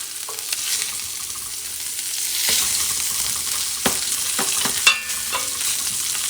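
Cauliflower fries in salmon fat over medium heat with a steady, close sizzle throughout, broken by a few sharp clacks and scrapes as the pieces are stirred.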